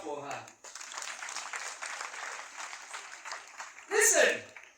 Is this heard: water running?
no